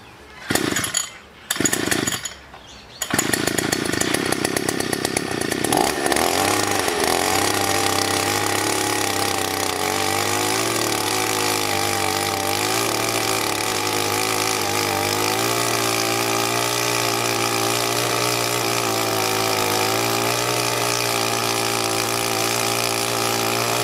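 Gas-powered earth auger, a handheld soil-drilling machine, sputtering through a few brief starts before catching and running loudly and continuously, its two-stroke engine droning steadily close by while it bores into the ground.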